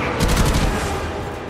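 Spaceship guns in the Warframe Railjack skirmish firing a fast, loud volley of repeated shots that blend into a dense roar over the short burst.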